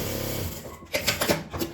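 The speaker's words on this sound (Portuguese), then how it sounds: "Eu vou passar uma costura, um pesponto." A sewing machine runs a fast, even whirring stitch while topstitching fabric scraps, then stops and gives a few short clicks and bursts as the work is adjusted.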